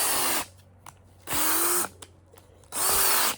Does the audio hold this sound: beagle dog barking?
no